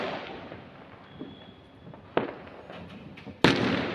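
Firecrackers go off outdoors during a Govardhan Puja celebration in India: a crackling, fizzing background broken by two sharp, close bangs, the second one louder than the first.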